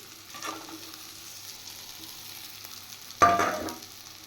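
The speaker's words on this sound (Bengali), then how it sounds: "এবার আমি ভেজে রাখা মুলোগুলো দিয়ে দিচ্ছি" Fried radish pieces drop into a pan of sizzling spices and tomato, a sudden loud burst of frying near the end after a low, steady sizzle.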